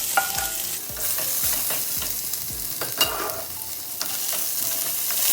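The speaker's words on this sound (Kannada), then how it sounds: "ಆಮೇಲಿಂದ ನಾವು ಆನಿಯನ್ ಹಾಕ್ಕೊಂಡು ಚೆನ್ನಾಗೆ ಫ್ರೈ ಮಾಡ್ಕೊಳ್ಳಿ" Onions sizzling in a pan for sprouted horse gram curry, a steady hiss punctuated by repeated scraping stirs of a spoon, fairly loud and close with no voices.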